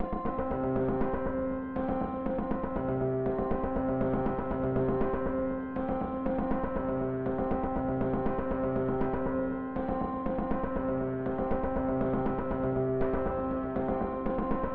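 Dulcitone sample library's percussive snaps preset plays as a steady, rhythmic pattern of short plucked, bell-like tones over sustained pitched notes, continuous and moderately loud with no voices.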